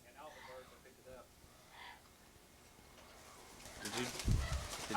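Pet parrots call in response to a ukulele pitch pipe, with faint cooing and chirping calls under a quiet voice, then a louder rustle and flutter of wings near the end.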